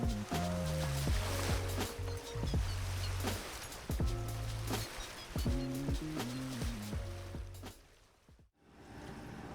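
A sailboat's engine drones steadily at about 4.5 knots with water rushing along the hull, the motor pitch shifting now and then, loud and close throughout, in Hawk Channel off the Florida Keys.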